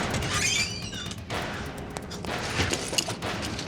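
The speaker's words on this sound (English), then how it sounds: "Then she hears gunshots." Gunshots go off inside an apartment in a televised reenactment: a dense, noisy volley of bangs and crackles over several seconds, loud but blurred together with background sound.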